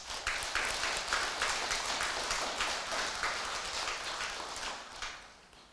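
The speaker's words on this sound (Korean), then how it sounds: "박수 한번 쳐보세요." A crowd at a Buddhist monk's Dharma talk claps steadily for several seconds, dense and even, at moderate distance with no one speaking over it.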